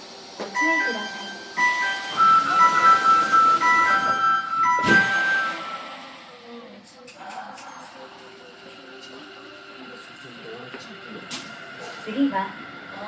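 Door-closing chime on a Sendai Subway Tozai Line train, heard as a short melodic tone sequence inside the carriage over running-train rumble, with a recorded announcement voice speaking around it.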